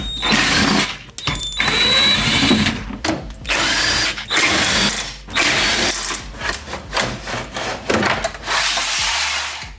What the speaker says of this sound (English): proceed to removing a handful of 10mm bolts that's holding this panel right here